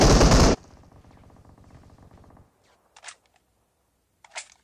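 Gunfire in PUBG Mobile opens with a loud, sharp burst. A quieter, rapid string of automatic shots follows, then mostly silence broken by two brief clicky bursts.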